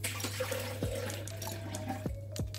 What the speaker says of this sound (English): So I'm putting a pint of water in the blender first,